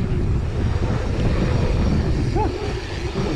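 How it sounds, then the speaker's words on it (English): Strong wind roaring steadily past the microphone while riding fast over berms, a continuous loud low rumble with no break. "So much wind."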